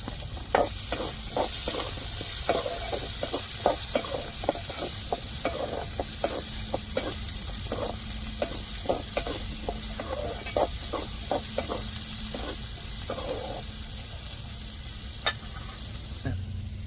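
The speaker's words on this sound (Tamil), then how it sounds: "வெங்காயம் வதங்குறது தாண்டி லைட்டாக உப்பு சேர்த்துக்கிடுவோம்" Onions sauté in a pan with salt, a continuous sizzle broken by regular scraping clicks from a spoon stirring through them, close and steady.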